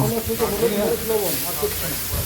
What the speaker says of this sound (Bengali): সম্ভবত মিনি মাছ ফ্রাই হচ্ছে